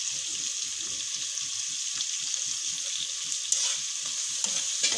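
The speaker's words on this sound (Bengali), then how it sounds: "এখন সব আবার একটা ভেজে নিচ্ছি।" Dhela fish frying with chili, coriander and cumin powder in a pan, a steady close sizzle with occasional stirring scrapes and clinks.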